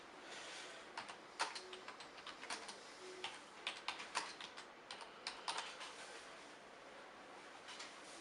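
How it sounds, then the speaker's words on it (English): Quiet, close typing on a keyboard in a truck cab's hours-of-service unit, with irregular clusters of soft key clicks and short pauses between them, and no voices. "Type in whatever your reason is"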